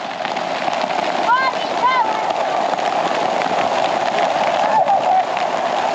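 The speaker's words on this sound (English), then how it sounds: "Oh, the hail." Hail pelts a camping tent during an overland trip near Creede, Colorado, a loud, steady dense patter filling the whole stretch, with a couple of brief bird-like chirps above it.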